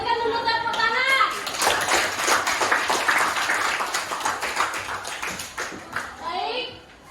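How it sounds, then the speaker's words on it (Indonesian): A school class clapping for group 1 in an Indonesian lesson, a dense burst of children's applause lasting several seconds, opening and closing with a teacher's voice speaking over it. "Untuk kelompok 1 tadi karena sudah berani maju lebih dulu, berikan dulu tepuk tangan."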